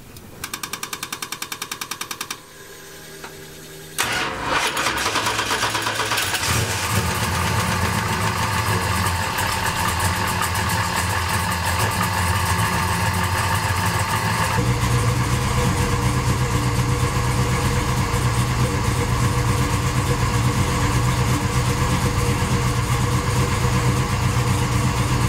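A car engine cranks over and catches after an air filter cleaning and re-oiling, then settles into a steady, loud idle that runs on alone without any talk.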